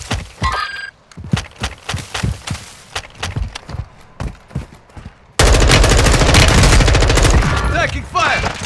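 Warzone 2.0 gunfire rattles in rapid bursts of sharp, close shots, then turns into a dense, continuous barrage that grows louder and more chaotic in the second half.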